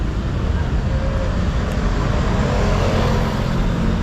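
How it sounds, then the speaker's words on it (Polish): Constant roar of street traffic at night in Patong, cars passing close by in a dense, unbroken wash of engine and tire noise. "no słyszycie sam hałas tych samochodów"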